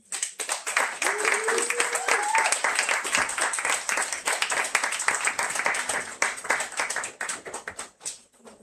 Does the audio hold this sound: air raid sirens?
no